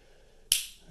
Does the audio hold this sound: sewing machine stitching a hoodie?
no